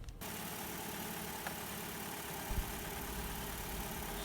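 A car engine idles steadily just after being started, a low continuous hum at close range with no talk, one soft knock partway through.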